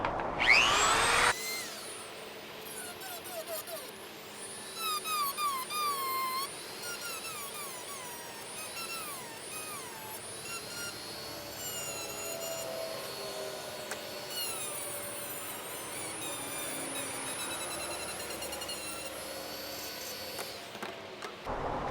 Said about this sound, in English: I'm going to sand it down with a Dremel, just cleaning that edge up.